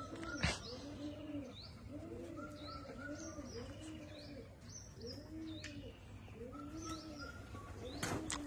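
Several pigeons in a loft, some sitting on eggs, keep up a soft, repeated rolling coo at moderate distance, mixed with light chirps and a couple of brief wing flaps.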